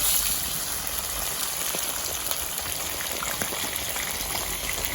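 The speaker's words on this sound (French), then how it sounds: "on constate que notre huile est bien chaude. Nous allons venir déposer délicatement nos darnes de poisson qui ont été bien marinés." Marinated fish steaks sizzle in hot frying oil for an Ivorian soumbara lafri dish, a loud, steady hiss packed with dense popping crackles and no talking.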